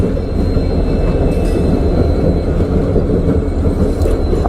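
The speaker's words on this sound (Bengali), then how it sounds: "সেবকের রেলগেট পড়ে আছে, সম্ভবত ট্রেন পাস হবে।" A train rolls past the Sevoke railway level crossing, a loud steady rumble of wheels and wagons with faint squeals, continuous and close.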